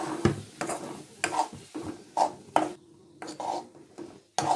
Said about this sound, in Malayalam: ഇനി നമുക്ക് ഇതിനകത്തേക്ക് തക്കാളി ഇട്ടെടുക്കുക നമുക്ക് ഇതൊന്ന് ഇളക്കി കൊടുക്കാം